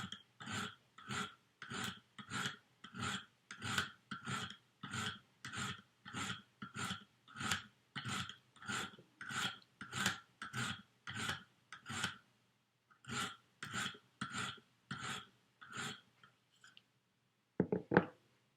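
A Kershaw Cinder knife blade is drawn across a 140 grit stone in a KME sharpener, producing about thirty steady, evenly paced scraping strokes, close and clear, then a short pause and a few more strokes.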